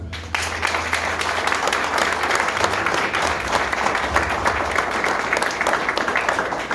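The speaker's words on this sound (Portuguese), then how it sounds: "Palmas para Jesus" A church congregation applauds for Jesus, loud sustained clapping from many hands filling the room, a low hum underneath and no clear speech.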